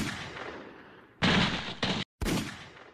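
Gunfire in an animated action movie, sounding as a few sharp, loud broadband bursts in quick succession, with a brief dead gap between them and a low rumbling background underneath.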